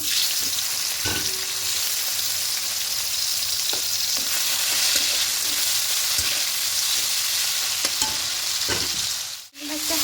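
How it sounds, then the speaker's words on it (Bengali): Prawns fry in mustard oil in a wok, giving a continuous close sizzle with scattered stirring scrapes and a brief dip near the end. "কড়াইয়ে সর্ষে তেল দিয়েছি তা তেল দিয়ে প্রথমে চিংড়ি মাছগুলোকে ভেজে নেবো"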